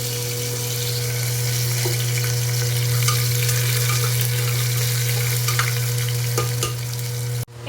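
Chopped onion and sugar frying in hot oil with whole garam masala for mutton curry: a loud, continuous close sizzle with a steady hum underneath and a few small stirring clicks.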